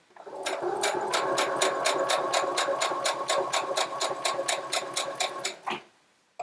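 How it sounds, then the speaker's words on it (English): A sewing machine stitches quilt fabric pieces along a 6mm seam in a fast, even run of mechanical clacks. It runs steadily for about five seconds, then slows and stops with a final clunk. "making sure you sew to a 6mm seam"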